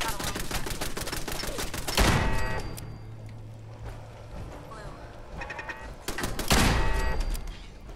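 Automated turrets fire in Fallout 4 in rapid bursts of gunfire, loud and near, with sharp impact blasts and pauses between volleys.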